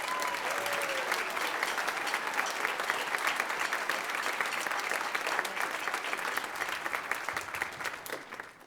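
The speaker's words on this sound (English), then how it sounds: "Please give them a round of applause." Sustained applause from a concert audience for student band musicians, a dense, even patter of many hands that stays strong for most of the stretch and thins slightly near the end.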